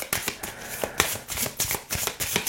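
Wandering Star Tarot cards being shuffled by hand, a quick rhythmic run of soft riffling flutters repeating about every quarter second, close and clear with no talk.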